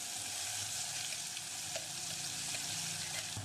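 A ground spice paste fries in hot oil in a pot, giving a steady, bright sizzle that stays even and close for the whole moment with no voices.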